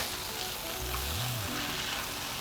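Burger patties sizzling on a hot surface as they are flipped, a steady, even hiss throughout with a low brief scrape from the turn partway through.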